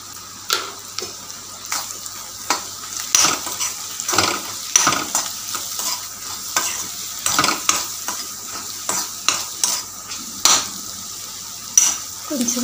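Egg podi mixture being stirred in a frying pan, a rhythmic run of scraping spatula strokes roughly once a second over a soft sizzle, close and fairly loud.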